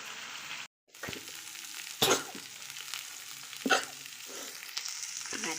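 Fish fries in a pan at home with a steady close sizzle and crackle, interrupted by a brief dropout and a couple of sharper spatters.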